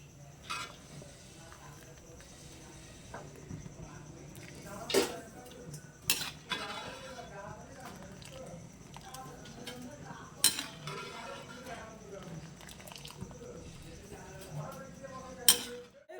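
Intermittent clinks and clanks of a metal pot and utensils as cooked pulao rice for Basanti pulao is drained into a vessel, with sharp separate knocks over a low kitchen background.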